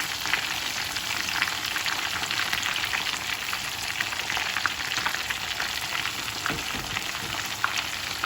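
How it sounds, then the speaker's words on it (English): Masala-coated Lahori chargha chicken sizzles and crackles steadily in hot oil, a constant bright frying hiss with scattered pops, no voices. "Not all of the masala will come off while you're frying."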